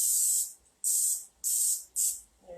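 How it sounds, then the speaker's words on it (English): Non-stick cooking spray hisses into an oven-safe baking dish in four short, loud bursts, each about half a second long, separated by brief quiet gaps. "Give it a little spray."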